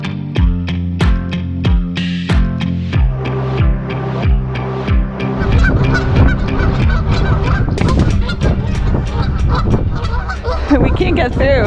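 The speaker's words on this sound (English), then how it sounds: "The geese are having a discussion." Geese on a dock honk in a loud, overlapping chorus, rapid repeated calls close by that grow busier and more chaotic toward the end.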